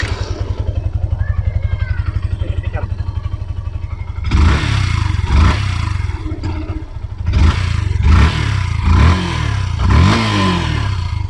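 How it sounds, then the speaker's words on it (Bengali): A second-hand Yamaha FZS V3/V2 motorcycle, recorded close to its engine, gives a steady pulsing idle and then several loud, sharp revs in quick bursts. "আচ্ছা ভাই, একটু স্টার্ট করেন, ইঞ্জিন সাউন্ডটা দেখি একটু কেমন।"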